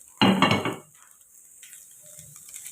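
Mixed crushed cabbage, capsicum and carrot being stirred in a pan, with a loud burst of scraping and clattering utensil-on-metal sound at the start, then fading to a faint background hiss and soft occasional scrapes.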